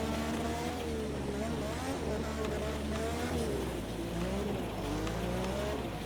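All-wheel-drive IMSA race cars sliding on a dirt track in a racing video game, engines droning steadily with rising and falling revs close by, constant throughout.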